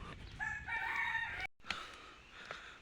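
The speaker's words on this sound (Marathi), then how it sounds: "हा कोंबडा कोणाचा काय माहिती नाही" A rooster in a Konkan village crows loudly and close by in one long drawn-out call that cuts off abruptly, followed by a few quieter clucks and faint outdoor background.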